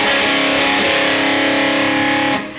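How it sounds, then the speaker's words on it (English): A distorted electric guitar rings out a four-note inverted root power chord. It sustains loud and alone for about two seconds before cutting off. "then goes up to the 4-note inverted root power chord"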